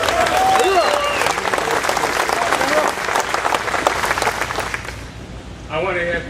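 An audience applauds steadily and loudly at a welcome event, a dense sustained clatter of many hands that tapers off near the end, with brief voices over the start and the finish.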